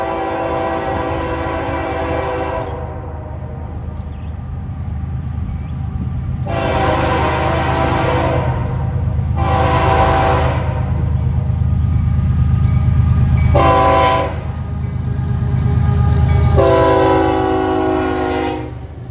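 A long grain freight train rolls past with BNSF locomotives and a trailing Ferromex SD70ACE, its horn sounding in several loud, sustained blasts over a steady deep engine rumble and wheel noise.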